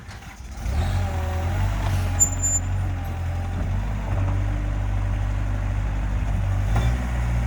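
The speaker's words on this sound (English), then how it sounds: "I'll take that forklift and lift it off of there." A forklift engine at a landscaping job starts up and holds a steady, low diesel rumble while lifting a load of dirt off a truck, close and loud, with a faint whine and a light clank near the end.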